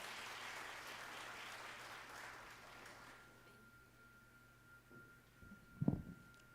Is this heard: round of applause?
yes